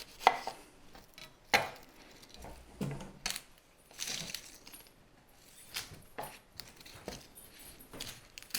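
A knife thinly slices a French rose onion on a cutting board in a home kitchen, making a quiet, irregular series of taps and clicks with a few sharper knocks, close by and with no speech.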